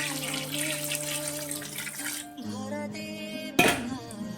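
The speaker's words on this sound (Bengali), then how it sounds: "এবার আমি পরিমাণ মতো জল দিয়ে দেবো" Water pours into a pot of simmering village-style chicken curry, a continuous splashing stream that shifts in pitch as it fills, ending with a sharp metallic clink from the pot.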